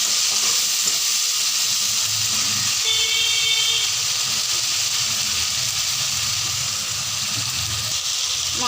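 A spice paste with tomatoes fries for egg curry, a loud, continuous close sizzle and hiss with soft scraping as it is stirred in the pan, no talking over it.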